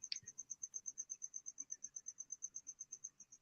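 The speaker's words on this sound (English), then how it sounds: "I just hear your cricket." A single cricket chirps in a steady, evenly spaced pulse, soft and fairly close, alone in a quiet room.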